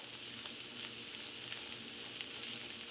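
Kale cooks down in a skillet with a steady, soft sizzle and faint crackles, continuous and even throughout with no one talking.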